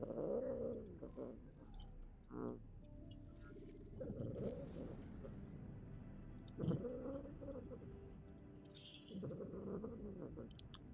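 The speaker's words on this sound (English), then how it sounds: "That cat is not a happy cat." An unhappy cat gives several drawn-out, wavering meows and yowls at moderate loudness, spaced across the stretch with a steady background hum between them.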